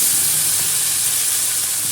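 Loud, close sizzling of onion, fenugreek seeds and green chili garlic paste frying in a pan, a dense unbroken hiss with faint spatter, no voices over it.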